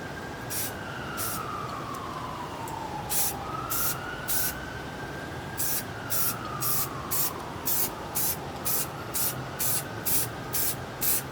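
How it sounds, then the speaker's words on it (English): Repeated short hissing bursts of an aerosol spray-paint can, pulsing in a steady rhythm over a constant background hum with a faint wavering tone, painting part of a Mercedes C55 AMG. "this does say you can spray it on anything without sanding"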